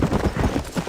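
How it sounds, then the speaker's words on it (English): Horse hooves clip-clopping in a quick trot while riding in Red Dead Redemption, a brief close run of rhythmic thuds. "let's mount up and hit the trail"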